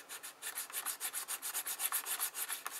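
A trimmed-down nail file rasps against the starter pawl of a model diesel engine, making a steady run of quick, rhythmic scraping strokes close to the mic with no talk.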